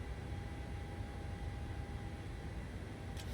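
A PMDG 737-800 airliner cruises in Microsoft Flight Simulator, its engines giving a steady, even cabin drone. The broad hiss stays soft and unchanging, with no talking.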